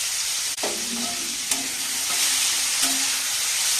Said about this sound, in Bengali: এই যে মাশরুমটা সেটা এবার আমি একটু নেড়ে নেব কড়াইতে